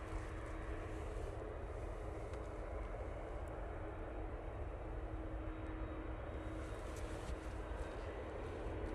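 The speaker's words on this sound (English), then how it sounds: "Silver Aviation PC-12 going off to Cannes." PC-12 turboprop departing from Manchester Airport, a steady distant engine drone with a low rumble and a faint tonal hum, continuous and fairly quiet throughout.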